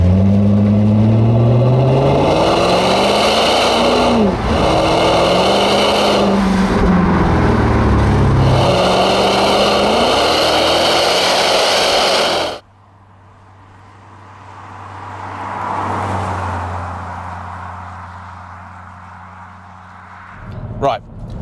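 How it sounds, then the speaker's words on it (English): BMW E60 550i Touring V8 engine revving hard while driving, a loud rising and falling engine note through several gear changes for about twelve seconds, then a quieter cabin with a fainter passing engine sound. "That engine is absolutely brilliant. A real firecracker, revs up incredibly freely."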